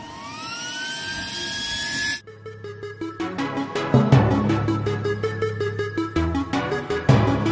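A new mini 40 x 40 mm blower fan rated 1.1 A and 13.2 W, meant for a used-oil stove, whines as it spins up in pitch, then gives way to a louder pulsing, rhythmic drone.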